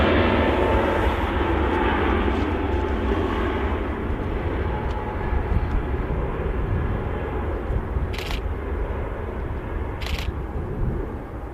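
An Airbus Neo airliner takes off at Manchester Airport, its engine roar loud and broad at first and then slowly fading as it climbs away, with a couple of faint clicks.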